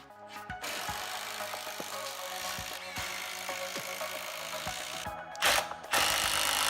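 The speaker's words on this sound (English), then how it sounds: "I'm just going to screw right through the ends here and create the frame, making sure it's square." Cordless drill driving screws through the ends of plywood frame pieces while building a workbench top, with repeated bursts of motor whine and clicking in a steady working rhythm, close and fairly loud.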